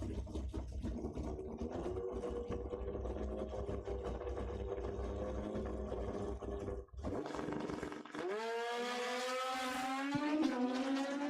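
Drag racing motorcycles roar down the quarter mile at a dragstrip, a loud sustained engine howl followed by a brief dip, then a rising, strongly pitched wail as a bike accelerates hard.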